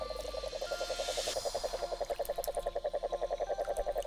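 Rapid, regular pulsing trill of a large poisonous toad croaking, close and clear, sustained for several seconds with an even rhythm.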